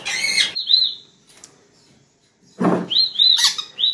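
Parrots give sharp, high chirps and squawks in short bursts with quiet gaps between, close by in a quiet room.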